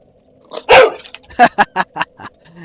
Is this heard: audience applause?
no